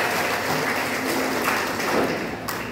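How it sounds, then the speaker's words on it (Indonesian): Audience applause at a church gathering of elderly congregants, a steady dense wash of clapping that holds evenly for the whole stretch without speech. "tepuk tangan dulu untuk Tuhan"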